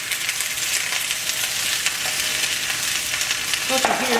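Green beans added to a pan with red onion fry and sizzle steadily, a close, continuous hiss with light stirring, and a brief voice near the end.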